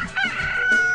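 A rooster crows a single, short, close cock-a-doodle-doo that fills the whole moment on its own.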